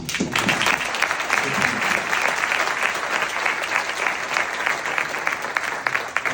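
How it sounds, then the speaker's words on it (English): An audience at a symposium claps enthusiastically, a dense, continuous burst of applause that stays loud and even for several seconds. "I want to give you a huge round of applause."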